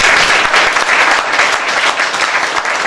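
Steady, dense applause from a large audience at a Rotary conference, loud and sustained throughout without a break.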